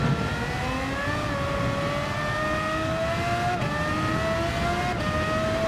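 A race car in Gran Turismo 7 drives on sport medium tires, its engine holding a loud, steady drone that climbs in pitch and then drops sharply at two gear shifts. No one speaks over it.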